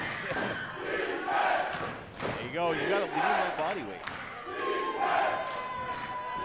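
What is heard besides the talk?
wrestling crowd cheering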